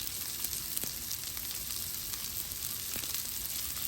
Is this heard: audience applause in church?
no